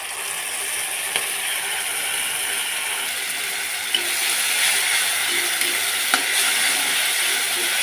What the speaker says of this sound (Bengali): মশলাটা এখন ভালোভাবে কষবে।